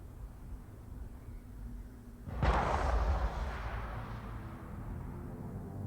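A single distant gunshot in the Mass Effect video game, a muffled boom that rolls out into a long fading echo over quiet background ambience.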